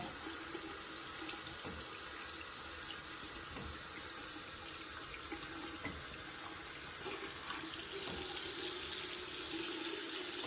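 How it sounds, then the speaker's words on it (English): Water runs steadily from a sink tap during hand washing, a continuous even splash that stays fairly faint and grows slightly stronger near the end, with no talking. "water flow from less contaminated to more contaminated area"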